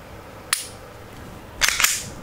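Two crisp mechanical clicks from a Smith & Wesson M&P9 M2.0 pistol, the trigger break and its reset, heard up close with a short pause between them and a quiet background otherwise.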